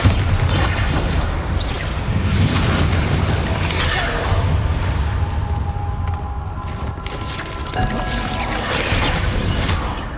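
Spell blasts in Hogwarts Legacy, a Bombarda explosion booming amid continuous dense combat noise, with low rumbling impacts and crackling debris throughout.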